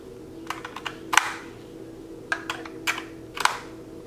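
Audio jack plugs click into the line out of an AKAI MPC500 sampler, several small sharp clicks and taps close up over a faint steady background hum.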